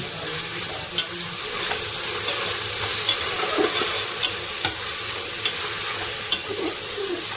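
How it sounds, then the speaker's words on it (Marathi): Sliced onions sizzling and frying in a pan over a high gas flame for prawn rice, a steady crackling hiss with occasional louder scrapes of stirring, close and without talk. "आपलं व्यवस्थित परतून घ्यायचं आपल्याला मोठ्या गॅसवरती आधी"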